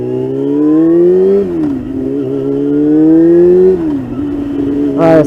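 First-generation Yamaha R6 motorcycle being ridden, its engine loud and close as the revs climb, drop with a gear change, climb again and dip once more, ending with a burst of wind noise.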